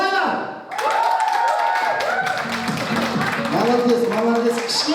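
Guests at a Kazakh celebration feast clap and cheer together, a dense, steady wash of applause and shouting voices that carries on throughout, with music and talk mixed in.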